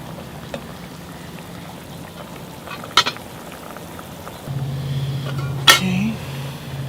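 Apricot glaze sauce for bread pudding reducing in a pan, a soft steady simmering hiss with a couple of brief clinks early on and a louder bubbling layer joining partway through.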